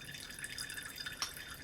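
Cold water falling drop by drop into a glass of absinthe, a quiet steady patter of small drips with one brighter splash near the end, heard alone and faint.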